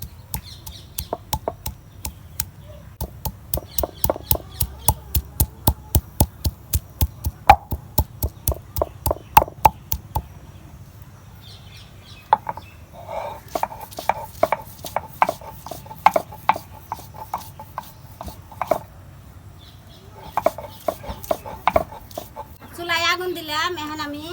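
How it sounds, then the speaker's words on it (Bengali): Ginger and garlic being crushed on a stone grinding slab, a fast run of sharp, regular pounding strikes, then a pause and a second looser burst of knocks, with a few faint background bird or animal calls. "আদা রসুন ছেলে নিয়ে গেছে আমি ছেঁচে নেবো শিল্পাটার মধ্যে"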